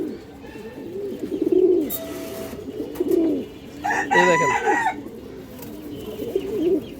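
Paired breeding pigeons coo in a repeated, low, rolling rhythm close by, with several overlapping calls and a short spoken remark partway through.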